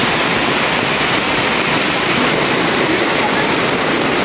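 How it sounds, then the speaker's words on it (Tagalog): Heavy rain pours down outside a house, a loud, dense, unbroken roar of falling water filling the whole span with no clear gaps. "Naabutan na naman po tayo ng ulan dito."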